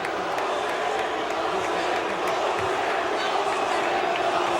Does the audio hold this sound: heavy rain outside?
no